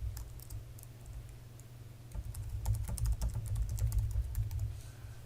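Rapid, irregular keystrokes on a computer keyboard while an email address is entered, light clicking that picks up and grows busier midway, close and fairly quiet with no voices.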